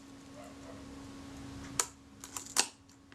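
Film advance lever stroked on a Kodak Retina IIc camera during repair, giving a few sharp, close mechanical clicks and ratchet snaps after a quiet pause, with no talking.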